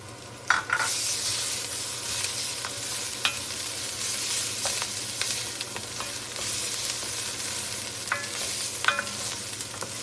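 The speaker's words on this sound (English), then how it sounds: "Get it in the pot and start to stir it around as well." Tomato paste stirred into a pot for American chop suey, with a continuous low sizzle and a rhythmic series of spoon scrapes and clinks against the pot, close and fairly loud, nobody speaking.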